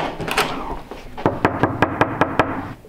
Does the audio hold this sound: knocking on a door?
yes